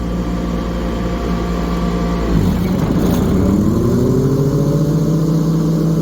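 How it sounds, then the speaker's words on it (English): A Honda 4514 lawn tractor's engine drones loudly and steadily. When the mower blades engage, its pitch sags under the load, then the engine recovers and settles into a heavier, even hum. "Go ahead and engage the blades. It does take quite a bit for this engine to get it going."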